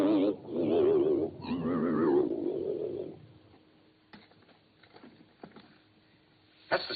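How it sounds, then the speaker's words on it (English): A flying saucer sound effect played back from a tape in a 1950s sci-fi film: a loud, warbling, wavering tone for about three seconds, then near silence with a few faint clicks. "That's the sound of the saucer we heard on the tape."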